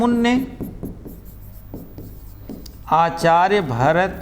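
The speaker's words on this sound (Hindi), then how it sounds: "एक प्रश्न और लिखेंगे कि आचार्य भरत" Pen or chalk writing out a question during a Hindi lesson on rasa, heard as a string of short scratchy strokes in a quiet room, followed by a teacher's voice speaking close by.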